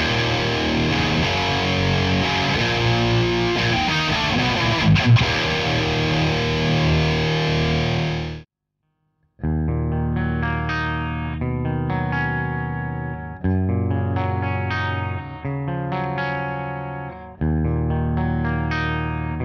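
An LTD H-401 electric guitar played through its bridge pickup with heavy distortion: a dense, sustained wall of distorted sound, a brief pause, then a run of chugging, rhythmic chords.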